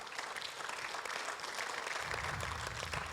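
A church congregation applauds the Lord during a service, giving a dense, steady round of clapping that sounds somewhat distant and soft throughout, with a low rumble joining near the end.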